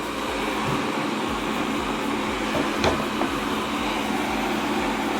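Viomi SE robot vacuum-mop from Xiaomi running steadily nearby, a constant broadband whirring hum with a faint rhythmic low pulsing underneath and no talk.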